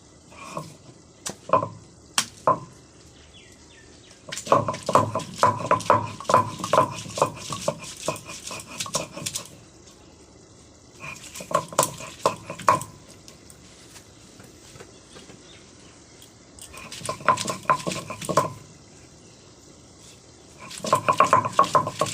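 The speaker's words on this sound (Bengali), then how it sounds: "এখন আমি বাটা মশলাগুলো বেটে নেব প্রথমে আদা পেঁয়াজ রসুন এগুলো বেটে নিচ্ছি" Ginger, onion and garlic are ground by hand into a spice paste, making rhythmic scraping and knocking strokes in repeated bursts with brief pauses, close by, with no talking.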